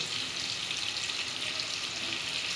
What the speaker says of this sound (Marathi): आपण त्याच्यामध्ये थोडी मोहरी घालून घेऊ, थोडं जिरं टाकून घेऊ.